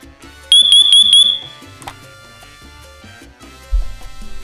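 A Siterwell smoke detector sounds its alarm: a loud run of rapid high-pitched beeps merging into a sustained shrill tone, followed by quieter background music with a few louder swells.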